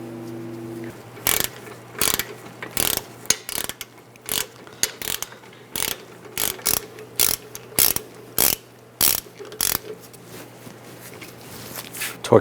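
A hand ratchet tightens the brake caliper bolts on the rear of a Buick Enclave, sounding as a series of sharp, close clicking bursts with short pauses between strokes over about twelve seconds.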